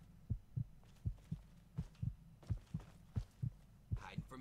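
Fallout 3 video game heartbeat effect: a faint, steady double-thump pulse repeating about a dozen times with a low hum beneath, alone.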